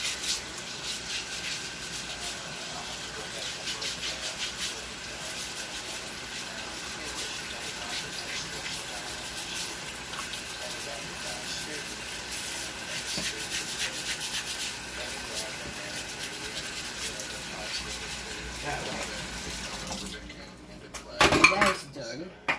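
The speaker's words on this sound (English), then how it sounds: "And I'm just scrubbing this last potato." A potato scrubbed by hand under running water in a kitchen sink, steady close rubbing and splashing over several seconds, ending with a few louder clatters of dishes near the end.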